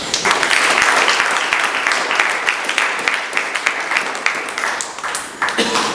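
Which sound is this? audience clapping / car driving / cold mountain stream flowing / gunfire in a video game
audience clapping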